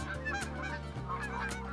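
Geese honk repeatedly as they come in to land in theHunter Call of the Wild, overlapping calls at a moderate distance without any talk.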